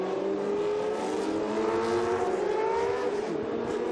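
Historic race cars with Cosworth racing engines howl steadily, a loud continuous roar of revving engines with rising and falling pitch as cars circulate on a circuit.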